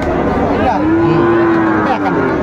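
Shahiwal bull mooing at a cattle market, a single long, loud, close bellow with a rising then steady tone over faint background crowd noise.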